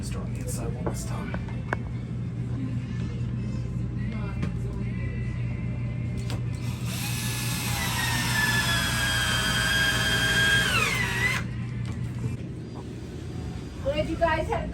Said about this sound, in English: Because with the weaker drill, I need to use both hands to drill it.